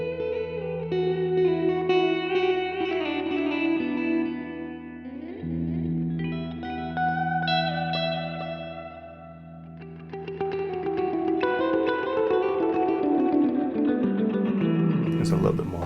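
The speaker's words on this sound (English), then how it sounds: "this will give us something a little bit more ambient now" An electric guitar through a compact travel pedalboard rings out in a clean, ambient tone, with sustained chords washed in reverb and repeating delay trails that swell and overlap.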